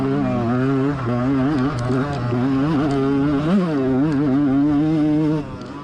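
A dirt bike engine racing at a GNCC off-road event drones continuously, its pitch wavering up and down without climbing high, as if struggling to rev out.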